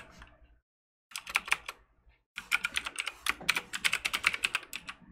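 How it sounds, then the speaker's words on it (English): A computer keyboard is typed on in quick clattering bursts while an email address is entered to sign in for PS4 streaming to a PC or Mac, with a short pause between the bursts. "I'm going to go ahead and swipe this over while I type in my info"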